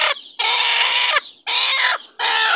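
A brooding hen clucks loudly and close by in three drawn-out, throaty calls separated by brief pauses.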